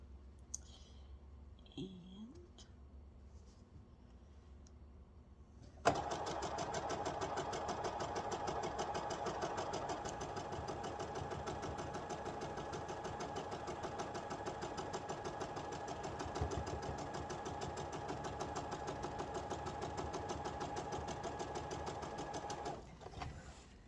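A sewing machine stitching quilt top pieces with the pedal pressed down runs in a steady, fast mechanical whir with rapid clicking for about seventeen seconds, close and continuous, then stops; faint handling noises come before it starts.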